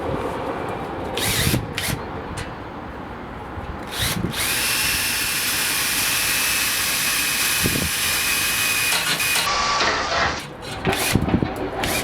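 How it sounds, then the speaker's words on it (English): Power drill boring holes into the top of a cryptocurrency mining rig frame, a steady whining drone running nearly the whole time with brief bursts and dips at the start and end. "I will have to drill in new holes up in the top here"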